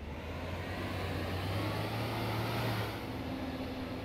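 Engine of a tractor in Farming Simulator 17 planting potatoes, a steady low drone with a constant hum running under a smooth rumble, even in level throughout and with no talk.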